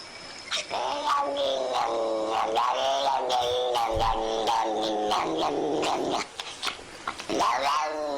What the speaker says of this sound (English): cat making weird noises